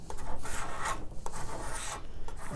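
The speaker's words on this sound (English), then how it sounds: "I'm just gonna card scrape the edges clean." Card scraper drawn along the edges of a solid wood table, close rasping scrapes in quick repeated strokes, alone without talk.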